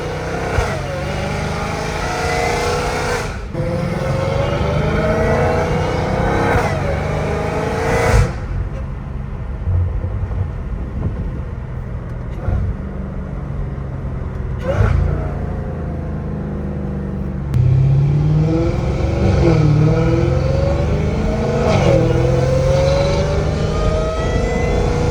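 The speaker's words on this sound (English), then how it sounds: "the supercharged whine is so satisfying." A Dodge Hellcat Redeye with a titanium catless exhaust roars and revs hard in repeated pulls, a supercharger whine rising over the engine, with short quieter stretches between bursts.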